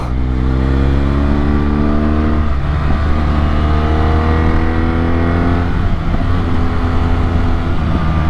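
Motorcycle engine at steady, loud running speed on winding roads, with smooth harmonic drone shifting pitch through two gear or throttle changes as the bike leans through tight bends.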